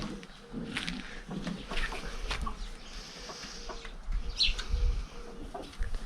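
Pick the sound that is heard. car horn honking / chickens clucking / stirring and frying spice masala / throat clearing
chickens clucking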